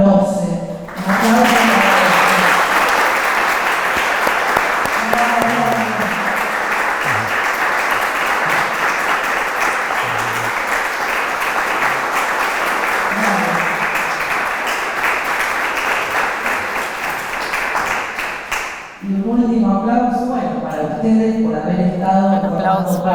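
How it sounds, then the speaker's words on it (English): An audience at a symposium closing bursts into dense, sustained applause for about eighteen seconds before it cuts off abruptly, and a voice then speaks over a microphone. "An applause for the audience for being part of this symposium"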